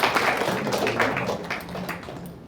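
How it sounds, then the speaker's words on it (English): A seated audience at a business association lecture gives a round of applause to welcome a guest speaker, dense, moderately loud clapping held steady before it tapers off. "Please join me in welcoming Mr. Anoop, A.V Anoop,"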